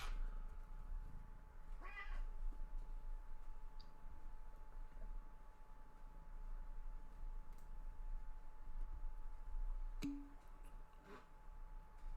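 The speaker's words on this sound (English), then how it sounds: "Cat is here annoying me." A cat meows a couple of times, well apart, over a steady low electrical hum.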